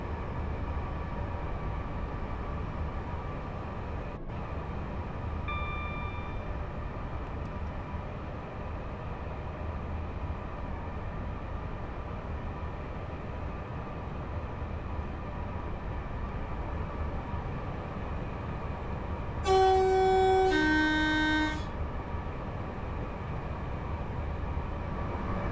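In the video game Train Sim World 6, a train runs on the West Coast Main Line south route with a steady low rumble and hum, broken near the end by a short two-tone horn blast.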